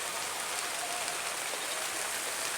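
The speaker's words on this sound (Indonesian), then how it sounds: "Lumayan besar hujannya ini." Heavy rain pours steadily in the countryside, a dense, even hiss of falling water with no breaks and no voices.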